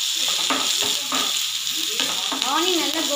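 Onions frying in oil in a pan, a loud, dense and continuous sizzle close by with stirring scrapes, and brief faint voice-like sounds within it.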